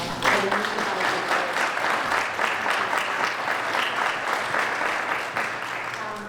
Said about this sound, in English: I do want to give another round of applause